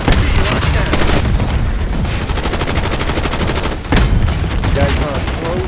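Rapid automatic gunfire in a video game firefight, loud and continuous with repeated bursts and a brief pause near the four-second mark, with faint players' voices underneath.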